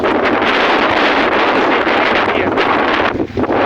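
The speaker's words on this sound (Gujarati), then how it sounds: "અત્યારે પવન અને વાવાઝોડું અતિ પ્રમાણમાં" Strong, steady storm wind over a millet field roars and buffets the microphone throughout, a dense gusting rush with a brief dip near the end.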